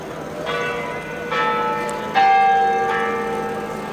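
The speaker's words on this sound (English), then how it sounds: "That's the bell of the city hall." Copenhagen City Hall tower bell strikes four times at steady intervals, each stroke clear and ringing with long overlapping decay, heard from high in the tower with no talk.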